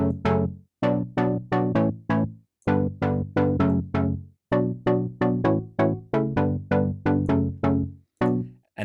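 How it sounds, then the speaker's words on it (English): Short house pluck synth patch built in Serum, with zero sustain and little decay, played as a rhythmic UK garage chord pattern of quick, bright, clipped stabs repeating steadily, loud and alone. "So we get a pluggy sound like this."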